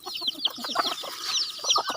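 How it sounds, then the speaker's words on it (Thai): Bantam chickens cluck and chatter in quick, overlapping bursts, close by and fairly loud, with no talking. "อันนี้เป็นไก่แจ้ที่เลี้ยงไว้นะครับ"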